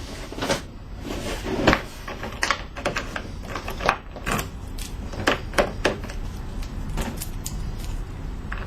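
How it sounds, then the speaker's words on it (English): A small lockable drawer in the cargo area of a 2011 Ford E150 van is opened and closed, with a series of close metallic clicks, slides and thumps at irregular intervals. "You also have a smaller lockable drawer down below."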